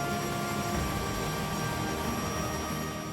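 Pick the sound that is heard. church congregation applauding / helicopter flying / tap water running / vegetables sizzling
helicopter flying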